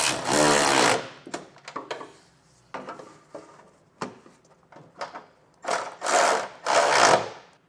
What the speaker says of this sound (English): I want to come back with a 3/4 inch socket now and snug the bolts coming down through the frame